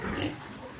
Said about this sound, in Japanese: 大きいこの中のね、メスの豚